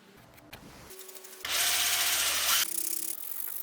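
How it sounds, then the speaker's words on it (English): A power drill serves as a makeshift lathe, spinning a wooden knife handle held on a bolt with hot glue. It whirs up to a loud, steady grind with a hiss, then drops to a lower, uneven whir. "I don't have a lathe, but what I do have, a drill and a bolt and some hot glue."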